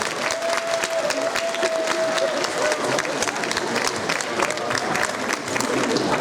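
Sustained applause from a crowd, dense and even clapping that continues steadily throughout with a faint tone briefly in the background.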